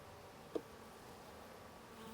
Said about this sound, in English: Oh, sorry, bee.